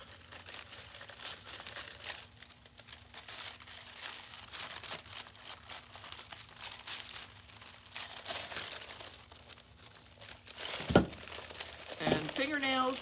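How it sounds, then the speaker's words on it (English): Non-directional craft foil crinkles close by as a thermal cup is set onto it, a soft, irregular rustle that runs the whole time with a few sharper crackles near the end. "this is a non-directional foil, so it doesn't matter which way I place the cup on it"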